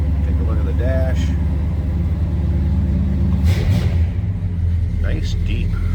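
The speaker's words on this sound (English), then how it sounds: "exhaust note on this one. Throaty little growl to it." A 1964 Ford Galaxie 500 XL with a V8 idles with a deep, throaty exhaust rumble, steady and close throughout, while someone talks over it and brief squeaks and knocks come from around the car.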